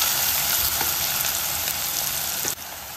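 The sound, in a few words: onions and green chillies frying in oil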